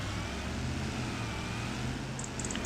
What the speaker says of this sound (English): Get the pickup truck out there.